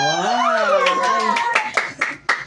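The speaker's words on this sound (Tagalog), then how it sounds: "Hindi nyo kailangan mong palakpak" Clapping from a small group at a birthday celebration, sharp bursts of hand claps following a sustained sung or cheering voice, with voices and chatter mixed in, close and fairly loud.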